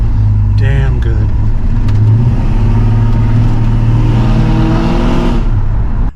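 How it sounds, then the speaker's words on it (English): A Blueprint Engines 350 V8 car engine rumbles loud and close, its low note climbing and falling as the throttle is blipped through several revs. "That's what the Blueprint 350 sounds like."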